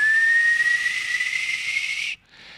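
A kettle on the boil lets out a loud, steady high whistle that rises slightly in pitch over about two seconds, then cuts off abruptly, leaving a softer hiss of steam.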